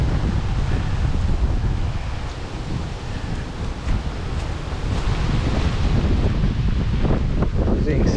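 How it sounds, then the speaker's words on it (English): Strong wind roars and buffets the microphone steadily in the aftermath of Hurricane Ian, a loud, continuous rushing with gusty swells and rustling over flooded, debris-strewn ground. "As you can see, it's still windy."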